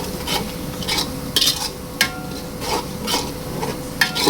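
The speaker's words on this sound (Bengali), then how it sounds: "গরম গোটা মশলাটা একটু পেঁয়াজের সাথে ভাজবো" Whole garam masala spices frying with fried onions in a pan for chicken biryani, a steady close sizzle with repeated scraping strokes of a stirring utensil at a slow irregular rhythm.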